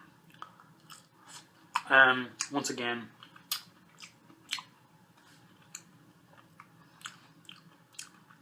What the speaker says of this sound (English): Getting more crunchy as I get to the tip.